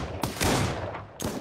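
A few sharp gunfire blasts, likely shotgun shots, in a video game terrorist hunt mode. Three loud bursts arrive at uneven intervals, close and punchy, with no talk.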